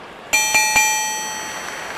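A boxing bell in a video game rings three quick metallic dings to close the round, bright and ringing, each strike layering over the last before a long shimmering decay.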